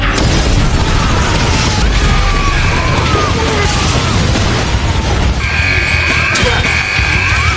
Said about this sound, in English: Moments later, the bomb explodes,